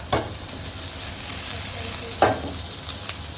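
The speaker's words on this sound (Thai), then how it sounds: "หอมใหญ่นี่ต้องผัดก่อนนะครับ" Onion stir-fries in a hot pan, a steady close sizzle punctuated by two or three quick scraping strokes of a spatula, with no talking.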